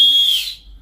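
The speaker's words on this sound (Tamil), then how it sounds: "அடிங்க விசில் அடிங்க" A safety whistle attached to a life jacket aboard a Chennai–Andaman passenger ship gives one loud, shrill, steady blast that fades out, with no talking.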